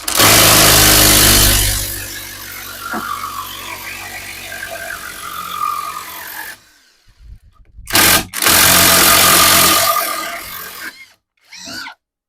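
Grosser GID 230N cordless 2-in-1 impact wrench running on fourth speed to unscrew a fastener: a loud, dense whirring burst, then a quieter rattling stretch, several short sharp hammering bursts and a brief final one.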